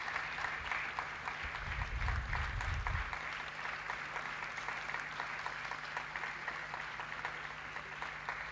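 Applause from a conference hall audience, sustained and even for several seconds, a dense patter of many hands clapping at a moderate distance.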